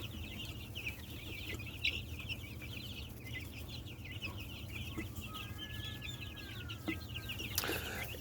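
Chickens cluck and murmur steadily while digging in the ground, with a soft continuous chatter of hens close by over a low background rumble and a brief louder squawk near the end.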